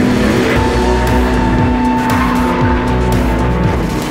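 Race-prepared Honda Civic touring car skidding with tires squealing, loud close engine roar and wavering screech sustained throughout.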